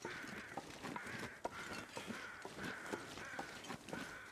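Crows cawing outdoors in winter weather, a repeated series of harsh caws at a fairly regular rhythm, distant and faint over a soft background hiss.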